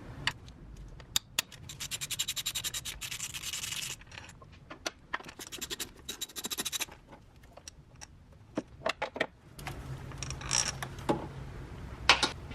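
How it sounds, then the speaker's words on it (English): Bolts being removed from the oil filter housing of a BMW N54 engine (E90/E60 335i), heard as close metallic ratcheting bursts, clicks and scrapes in uneven clusters, with quieter gaps between. "With the filter pulled off, we'll continue to remove these bolts."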